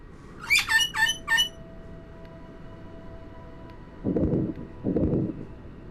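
A bird in the Titanic VR game gives a quick run of four sharp, high chirping calls, followed by two lower rough squawks after a pause, all fairly close with no talk.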